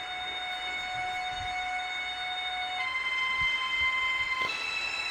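Roco Vectron model train locomotive driving through its speed steps, with faint high whining electric motor tones that jump upward in pitch in distinct steps over soft background rumble.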